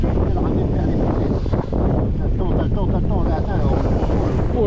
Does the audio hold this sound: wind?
yes